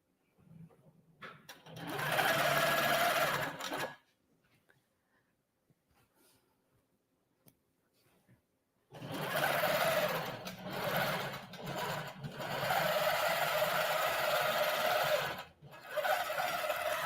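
Sewing machine stitching wavy lines across a sunny quilt, running in two steady bursts: a short run of about two seconds, a pause, then a longer stretch with brief stops, loud and close with no talking.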